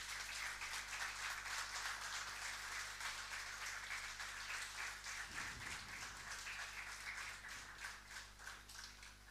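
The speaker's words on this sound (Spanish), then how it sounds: "Dale un aplauso al Señor." Church congregation breaks into sustained applause, a dense continuous roar of many hands clapping steadily at close range, with a low steady hum underneath and a brief thump midway.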